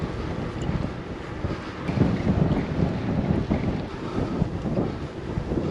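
A strong headwind buffets the microphone of a cyclist riding the Cantii Way, a loud continuous low roar with gusty fluctuations and no talk.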